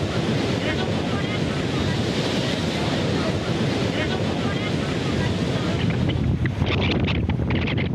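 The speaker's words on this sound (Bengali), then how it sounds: "সাগর উত্তাল থাকায় পটুয়াখালীর কুয়াকাটায় গুড়ি গুড়ি বৃষ্টির পাশাপাশি বড় বড় ঢেউ আঘাত হানে সৈকতে।" Heavy surf pounds and rolls continuously on the beach at Kuakata, Bangladesh, in rough seas with light drizzle, a loud, dense roar of breaking waves with wind buffeting the microphone throughout.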